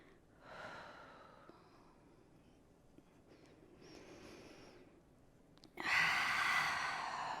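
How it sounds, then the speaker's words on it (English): Slow breaths during a grounding yoga flow: soft exhalations through the mouth come in gentle waves, faint and close, ending with a louder, airy out-breath. "Breathe out of our mouth."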